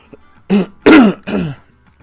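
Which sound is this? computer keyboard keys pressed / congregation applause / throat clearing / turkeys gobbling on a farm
throat clearing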